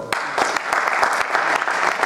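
An audience applauds a guest journalist being introduced at a panel event, a short burst of close, crisp clapping with sharp individual claps over a steady wash.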